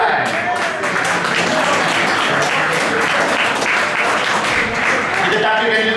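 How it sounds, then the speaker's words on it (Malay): Loud, sustained applause from an audience at a closing ceremony for an intrapreneurship training program, dense clapping continuing steadily, with faint voices underneath. "Beri tepukan."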